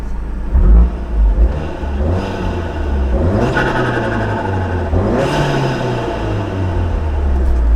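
A Mk7 Golf R with its exhaust valve closed revs loudly nearby: a sharp blip, then two rising, swelling revs that fall back to idle, with no talking.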